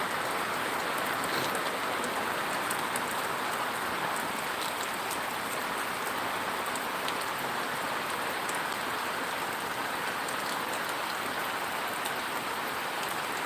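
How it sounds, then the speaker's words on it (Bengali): Steady, heavy monsoon-season rain falls continuously on surfaces, an even, dense hiss with scattered drop ticks and no voices throughout. "একেবারে নিশ্চুপভাবে বৃষ্টি"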